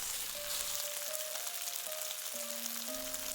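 Spiced shrimp fry in a hot pan, giving a steady, close, even sizzle throughout with no voices.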